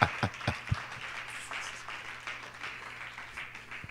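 A church congregation applauds, starting with a few distinct sharp claps that blend into a sustained wash of clapping.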